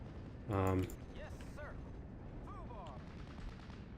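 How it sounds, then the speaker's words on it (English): Machine gun fire in the Steel Division tank and infantry battle game: one short, loud burst of rapid automatic shots, followed by quieter in-game voice calls over steady battlefield ambience. "those rifle leaders got killed pretty much instantly by this machine gun"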